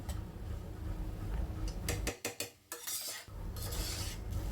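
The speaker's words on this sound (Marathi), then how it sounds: "भात आपण परतवून घेतो" Spiced Maharashtrian masala rice being stirred and sautéed in a pan, with steady scraping of a spoon through the grains and a few sharp metallic clinks against the pan, close up with no talking.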